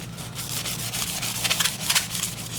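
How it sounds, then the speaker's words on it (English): Hand sanding of a pen barrel, close soft rhythmic rasping strokes that swell and fade in quick repetition. "I'm going to go ahead and sand the barrel."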